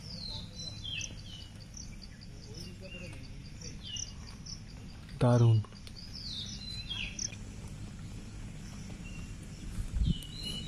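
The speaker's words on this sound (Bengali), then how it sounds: "পাখির ডাক শোনা যাচ্ছে কত" Birds in the forest of Simlipal Tiger Reserve in Odisha send out repeated thin, high chirps and calls at a moderate distance. Steady insect and cricket noise runs underneath, and a person speaks briefly once.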